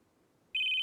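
In the Roblox horror game Ophelia, a phone starts ringing abruptly after near silence, a bright steady electronic ring that is loud and close.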